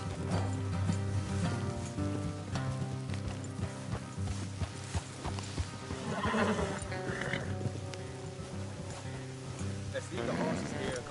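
In Red Dead Redemption 2, horses whinny and snort amid clip-clopping hooves, with people talking over them and background music running throughout.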